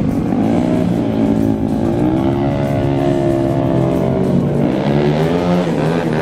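A Honda Beat 150cc motorcycle, a daily-ridden bike tuned for racing, revs hard and close, its engine tone rising and falling in several pulls over a constant loud roar.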